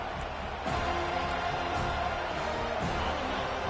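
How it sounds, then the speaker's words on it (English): A home crowd at an NCAA 25 college football game roars in a broad, steady wash of cheering that swells slightly after the start and holds, distant and diffuse. "Here comes this home crowd as the defense tries to get off the field."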